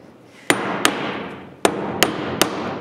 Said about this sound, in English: give these little taps